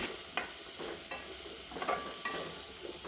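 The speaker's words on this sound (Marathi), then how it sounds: "असं छान याला परतून घ्यायचं तेलामध्ये" Guava pieces sautéing in hot oil with salt and turmeric in a pan, a steady close sizzle broken by soft periodic scrapes and stirs of a spoon.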